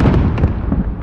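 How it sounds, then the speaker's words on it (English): A grenade blast in the video game Call of Duty Modern Warfare, a loud, close, booming burst with rumbling debris that decays over about a second. "Grenade out!"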